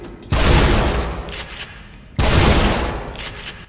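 Two heavy gunshots fired in The Evil Within, each a loud, sharp blast followed by a long rumbling decay, spaced about two seconds apart with no talking.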